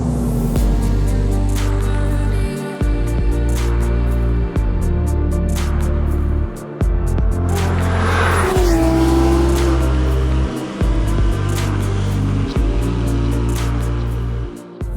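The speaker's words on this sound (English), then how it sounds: "the power delivery, the raw feeling and the motorsport soundtrack of that Mezger" A Porsche 997.1 GT3 RS with its naturally aspirated Mezger engine drives on a road, loud and close, its revs climbing repeatedly with sharp gear shifts between pulls and a brief tire squeal midway.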